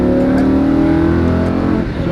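A Lamborghini Huracan race car accelerates on a track, its engine roaring loud and close with a rising, harmonic-rich note that sags slightly near the end.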